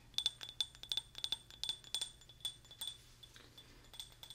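Small glass vessel clinking up close in a quiet room, a rapid run of bright, delicate taps and rattles that slows and fades toward the end.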